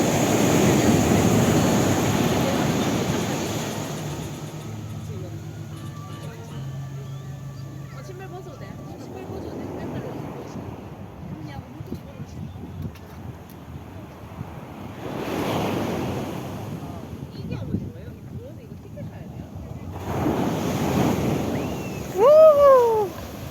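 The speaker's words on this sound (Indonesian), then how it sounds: "ombak yang naik tiba-tiba ini yang membuat kita tidak nyaman ya teman-teman" Ocean waves surge and crash onto Kedonganan Beach in several swelling bursts, with wind buffeting the microphone and faint voices now and then.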